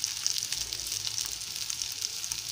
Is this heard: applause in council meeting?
no